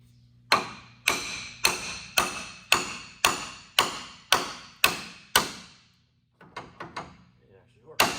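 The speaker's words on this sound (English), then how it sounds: "maybe a few whacks of this hammer will loosen it up." Hammer whacks on the front-end parts of a 2006 Dodge Ram diesel truck: about ten loud, sharp metallic strikes in a steady rhythm, then a pause and a few lighter, quicker taps.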